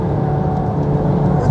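A Stage 3 VW Golf R on a race track at full throttle in limp mode, its engine holding a steady, strained drone without climbing in pitch, loud and close, with a voice talking underneath.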